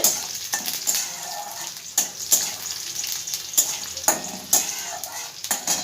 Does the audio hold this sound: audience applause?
no